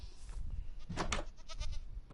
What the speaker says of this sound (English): A sudden urge to check on the goats.